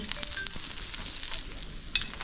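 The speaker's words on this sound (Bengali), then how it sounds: "ডিম ভাজছে" Eggs frying in a pan during lunch at a trekking stop on the Gorkhey to Phalut route, a soft continuous sizzle with scattered crackles and small pops, fairly quiet and close.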